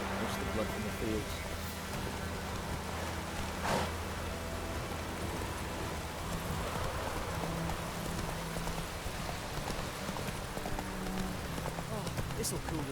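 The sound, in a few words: rain falling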